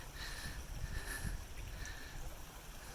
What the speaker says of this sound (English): And then the creek flows down.